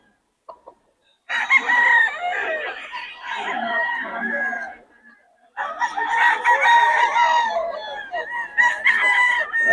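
A bullstag gamecock rooster at a market crows loudly and close in two long bursts separated by a short pause, with clucking around them.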